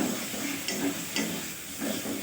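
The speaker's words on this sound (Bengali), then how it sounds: "মশলা কষাচ্ছি।" Spices frying with potatoes in a home kitchen pan, a close steady sizzle and hiss with a few soft scraping stirs, brief and without talk.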